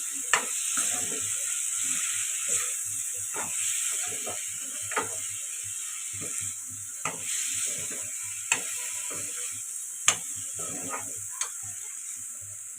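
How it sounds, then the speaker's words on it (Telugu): Coriander powder and spices frying in a pan for a tamarind raw-banana stew make a steady, close sizzle throughout, with scattered clicks and scrapes of stirring and no talk. "ధనియాల పొడి ఇవి కలుపుకొని ఒక నిమిషం పాటు ఫ్రై చేసుకుంది"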